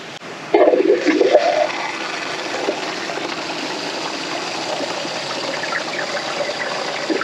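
Water rushes steadily into a caravan's onboard water tank through a hose joiner, a loud gushing burst at first, then a constant hollow flow that carries on alone without talk.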